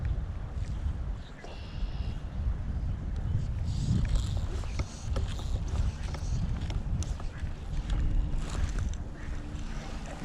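Gusty wind blows outdoors beside the Grand River during fly fishing, rushing and buffeting the microphone in uneven surges with scattered small knocks and rustles, fairly close and moderate in level.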